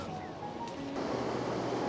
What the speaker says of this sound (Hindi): सरस्वती नदी जो कलकल करती हुई, शोर करती हुई और आगे जा रही हैं